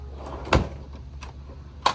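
A tackle storage drawer aboard a 2006 Mikelson 59-foot Nomad sportfishing boat slides and knocks shut, with a solid thump near the middle and a lighter clack at the end, close by in a quiet cabin.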